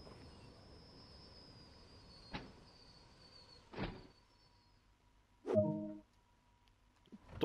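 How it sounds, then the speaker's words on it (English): Train doors unlock in Train Sim World 2 on the Ryde Pier Head to Shanklin line: a few separate mechanical clunks and a louder hissing release, spaced apart over a quiet cab hum. "Doors unlocked."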